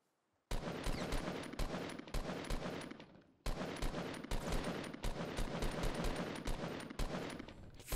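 Gunfire in the video game Fortnite: loud rapid automatic bursts that start abruptly, pause briefly, then continue as a long sustained spray of shots, with no talking over them.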